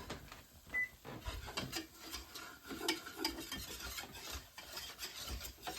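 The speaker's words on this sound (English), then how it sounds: "You just want to give that a good stir." Homemade gravy stirred in a pan with a utensil, soft repeated scraping and rubbing strokes in an uneven rhythm, quiet and close.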